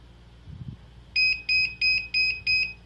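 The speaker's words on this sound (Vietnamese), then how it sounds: "Đó, nó kêu không 4-5 lần, kêu bíp bíp liên tục." The buzzer on a DC01 motor reversing remote controller beeps five times in an even, steady rhythm, loud and close, after a faint click of a button being pressed and held.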